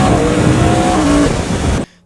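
A Yamaha R1M motorcycle engine revs hard, a loud, dense, raspy roar with rising pitch sweeps that holds strongly, then cuts off abruptly near the end.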